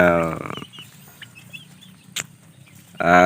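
Chickens and young chicks being raised for breeding cluck and peep softly at close range, scattered small calls and rustles between bursts of human voices at the start and end.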